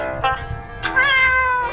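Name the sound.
cat meowing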